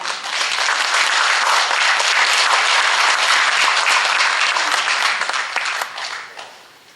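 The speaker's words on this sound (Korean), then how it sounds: "우리 박경아 교수님을 박수로 맞이하겠습니다" Concert-hall audience applauds a professor stepping up to give a congratulatory speech, a full, dense wash of clapping that stays strong and even for several seconds before fading out at the end.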